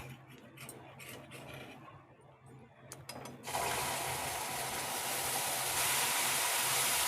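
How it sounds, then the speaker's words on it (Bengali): Milk poured into a hot pan for coconut pudding: a few quiet clinks and stirs, then a sudden loud, hissing rush that holds strongly to the end. "এই দুধটাকে আমি এবার এর মধ্যে দিয়ে দেবো"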